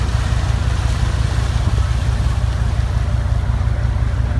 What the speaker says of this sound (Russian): Сзади нас еще один катерок, тоже полный людьми